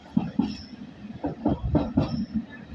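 Old railway carriages pulled by the steam engine Titan between Corfe Castle and Swanage rattle along the track, with a run of rhythmic clicks and clunks from wheels on rail joints, fairly close and moderately loud.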